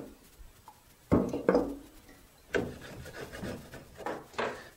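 A rag with mineral spirits rubs adhesive off a hand saw's steel plate in several short scrubbing strokes, close and fairly faint, with soft handling noises between them.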